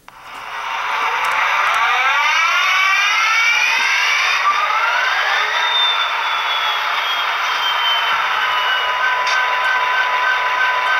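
An Athearn Genesis BNSF SD60M model locomotive with a Tsunami sound decoder starts up from silence into a steady diesel drone, with a bright whine sweeping upward and holding through the rest.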